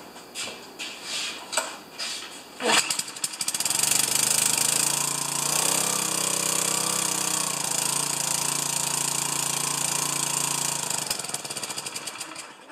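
A pressure washer engine runs at three-quarter throttle. A few clanks and knocks come first, then a loud steady engine drone holds for several seconds before it tapers off near the end.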